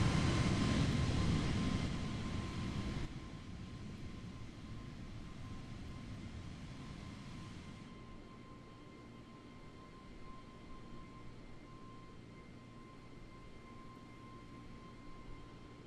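A steady, droning Airbus A320 engine hum in Microsoft Flight Simulator during cruise after departure from Toronto over Canada. It begins fairly loud, then drops in volume in two steps to a faint, constant background rumble.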